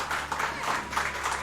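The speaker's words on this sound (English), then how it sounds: "I don't know if that's worthy of an applause" Audience applause at a speedrun event, a steady wash of clapping held at a fairly even level throughout, with crowd noise mixed in.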